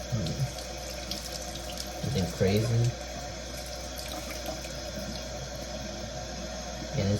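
Cool water runs from a tap while gel is rinsed off aquarium plants, a close, steady rushing stream with brief splashy surges. A voice speaks briefly over it.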